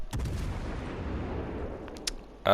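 Naval gunfire in the video game World of Warships Legends, a deep booming salvo with a long rumbling decay, then a sharper crack near the end.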